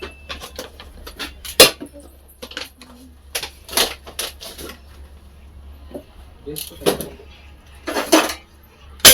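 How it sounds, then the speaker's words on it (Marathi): Metal pots and utensils clank and clatter in irregular bursts, some sharp and loud, close by, with voices talking in between. "चहा करायला लावला तर भांडे आपटायला लागली"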